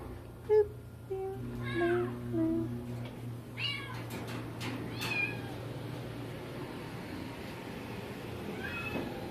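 A cat meows repeatedly at a humane society shelter, close and clear in several short rising calls, with quieter cries from other cats in the room.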